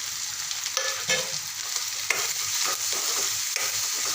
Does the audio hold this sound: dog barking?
no